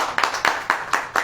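An audience at a church sermon clapping in unison, five or six even, sharp claps in a quick steady rhythm, close and loud with no talking.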